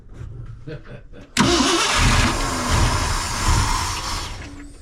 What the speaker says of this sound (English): Crank it and see what it'll do.